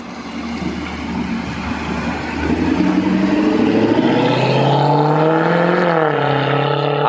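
A car passes close by with a loud, rising engine note that swells and shifts in pitch over several seconds, filling the scene without any speech.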